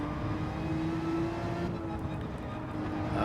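Race car engine droning steadily through a tricky section of track in a racing video game, a continuous mid-pitched hum holding level and close for the whole stretch with no talk.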